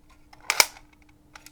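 Camera shutter fired at a slow speed of about 1/25th of a second, one sharp mechanical click-clack heard close and alone, followed by a faint second click.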